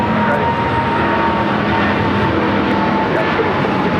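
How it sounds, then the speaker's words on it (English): Star Alliance Boeing 777 jet airliner taking off from runway 25 right at LAX, a loud, steady broadband jet roar that holds at high level for the full length, close and dominant. "we do have that Star Alliance 777 now taking off 25 right"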